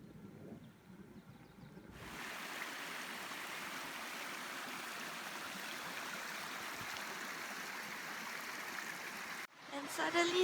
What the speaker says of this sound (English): And suddenly there's a mini waterfall.